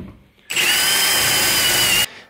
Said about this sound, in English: We're gonna take a 54 mil um, hole saw and we're gonna simply bore out our little center section here.